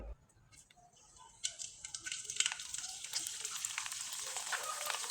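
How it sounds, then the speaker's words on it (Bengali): Sago (sabudana) pitha frying in hot oil, a steady high crackling sizzle that rises after a quieter start and holds loud to the end, with no talking over it. "এবার কয়েকটা পিঠা আমি আপনাদের ভেজে দেখিয়ে দিচ্ছি"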